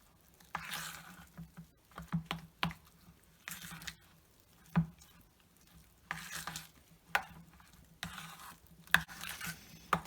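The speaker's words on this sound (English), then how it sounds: "I'm going to continue mixing it" Cinnamon is stirred into a soft cheese blintz filling in a bowl, with quiet, wet squishing strokes and occasional spoon taps against the side in an irregular rhythm, close and faint.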